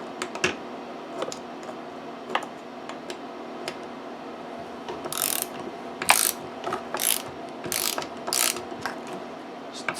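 A ratchet loosening T27 Torx bolts on an Echo PB-250LN leaf blower, close scattered clicks at first, then several bursts of rapid ratcheting in the second half.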